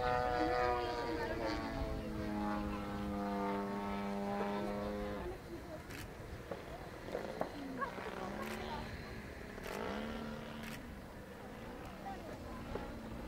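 A propeller-driven RC aerobatic model plane, a Cap 322, drones with a steady engine tone at an airshow, the pitch shifting as it dives and manoeuvres, with a commentator talking over it throughout.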